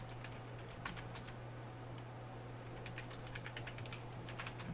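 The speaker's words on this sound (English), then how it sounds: "I'm sorry if you guys can hear me typing." Close typing on a computer keyboard picked up by a sensitive microphone, with quiet irregular clicks in short bursts over a steady low hum and no speech.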